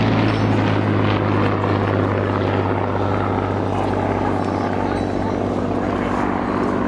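Hawker Hurricane Mk.I R4118, a World War II fighter, at an air show; a steady, loud, continuous engine and propeller drone with a sustained low hum holds throughout.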